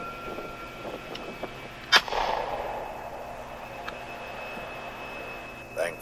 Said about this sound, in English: he'll be firing a warning shot in order to scare it away